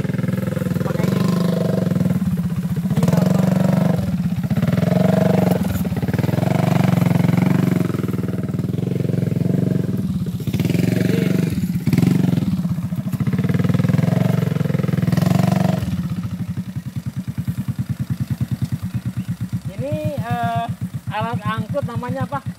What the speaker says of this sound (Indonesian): Jadi motornya Honda Supra dimodifikasi ya khusus untuk ngangkut buah sawit